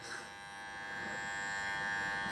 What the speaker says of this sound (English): Just go in with your trimmer.